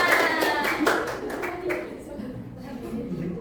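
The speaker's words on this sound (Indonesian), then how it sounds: "Tepuk tangan untuk kalian semua." Schoolchildren in an Indonesian classroom clap their hands together in a short burst of quick, sharp claps that fades out, with a teacher's voice and children's chatter mixed in.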